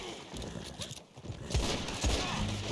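A horse in the Red Dead video game whinnies over clopping hooves, with game ambience running underneath.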